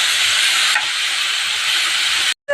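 Bitter gourd, seasoned with salt and turmeric, fries in hot oil with a loud, continuous hissing sizzle that cuts off abruptly near the end.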